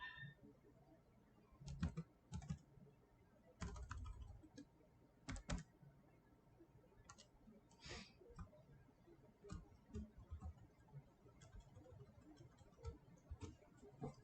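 Quiet typing of a search on a computer keyboard, with irregular soft key clicks and a few heavier taps scattered across the stretch, close but faint, with no talking.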